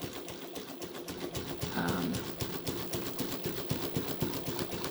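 Mannan three-thread chain stitch sewing machine running slowly over a shirt seam and top yoke, a close, rapid, even mechanical clatter of the needle throughout.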